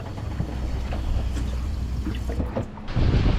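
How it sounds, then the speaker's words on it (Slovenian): A tap runs aboard a sailboat during an Atlantic crossing, water rushing steadily into a sink at close range, then shifting to a heavier splashing flow near the end. "da pa voda teče iz pipe, ko se nagreva"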